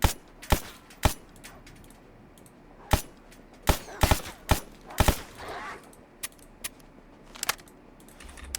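Gunfire in the shooter game Stalker GAMMA: sharp, loud single shots at irregular intervals, some in quick pairs, with quieter clicks and rattles between them and no talking.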